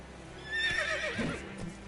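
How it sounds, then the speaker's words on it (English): The horse Roach neighs in The Witcher 3 video game, one close, wavering whinny lasting about a second with a faint hoof clop at the end and no speech. "Luckily, Geralt can always count on his horse, Roach, to help him in his travels."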